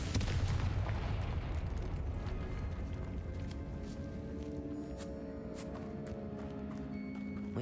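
Blasting spell explosions in a Hogwarts wizarding video game, a dense rolling barrage of booms and bursts, loud and continuous throughout with a low rumble underneath.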